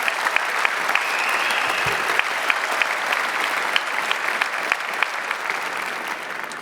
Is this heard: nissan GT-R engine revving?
no